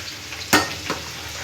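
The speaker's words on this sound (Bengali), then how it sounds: "আলু ভাজা হচ্ছে" Potatoes frying in a pan on a home stove, a steady sizzle broken by two sharp stirring scrapes, the first louder, close and alone.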